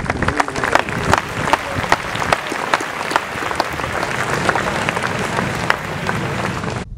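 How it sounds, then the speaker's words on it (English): An audience at Boca West Country Club applauds a singer before the national anthem, a steady crowd clapping held for about seven seconds, with a few sharper individual claps standing out. "Please give her a big round of applause."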